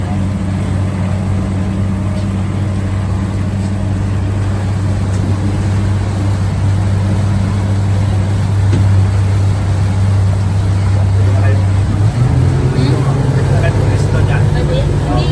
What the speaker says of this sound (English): Oh, it's a speedboat,